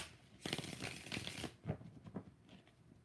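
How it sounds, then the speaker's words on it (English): Tarot cards are shuffled by hand in a quick, dense papery riffle lasting about a second, then a few softer taps and slides as the deck is squared, close and alone. "3 more shuffles."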